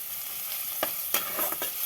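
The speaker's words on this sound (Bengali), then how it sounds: "রসুনটা ভেজে নেওয়া পর্যন্ত একটু অপেক্ষা করব" Garlic frying in a pan for a banana-stem dish, a soft steady sizzle with a few sharper stirring scrapes and clinks, close and fairly quiet, no talking.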